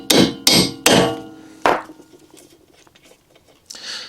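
A hammer taps on the splined axle shaft in the hub of a Chevy Volt during wheel bearing work: four sharp metallic strikes, three in quick succession and one after a short pause, each ringing briefly, then faint clinks.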